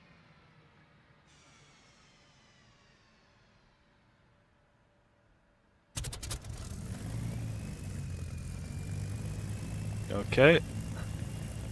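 A P-51 Mustang piston engine in the DCS World flight game catches after the starter turns, jumping from quiet cranking into a steady loud idling rumble with a brief surge near the end; a voice speaks briefly.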